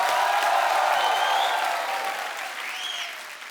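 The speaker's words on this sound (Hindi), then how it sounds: "अक्षय पाजी के लिए जोरदार तालियां हो जाए एक बार।" A television comedy-show studio audience applauds loudly for Akshay Kumar, with dense clapping and some cheers that gradually fade over a few seconds.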